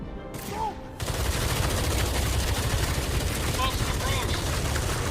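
Sustained gunfire bursts fill a loud, dense combat scene in the video game Batman Arkham Shadow, with crackling shots layered over rumbling background noise after a brief quieter opening with a voice.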